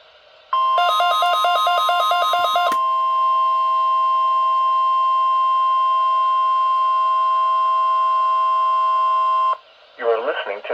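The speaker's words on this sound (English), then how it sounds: "The preceding tone signals were a test of the alarm device of this weather radio station." NOAA weather radio alarm test tone signals: a short warbling two-tone burst gives way to a long, steady, loud sustained tone lasting about seven seconds, then cuts off as a voice begins speaking.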